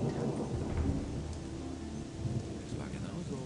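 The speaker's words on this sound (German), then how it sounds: "Alter, wie dicht der Regen ist." Dense, heavy rain pours steadily in Gothic 2: Die Nacht des Raben, a continuous broadband wash with low rumbling texture, close and loud throughout with no talking.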